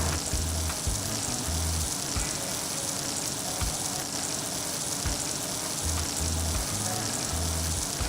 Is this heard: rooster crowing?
no